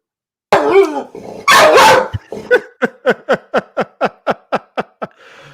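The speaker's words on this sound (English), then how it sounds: "I'm actually not the one having the dogs bark this week." A dog barks excitedly indoors, starting with a few rough, loud yelps and then settling into a steady run of about a dozen sharp, evenly spaced barks, close and loud.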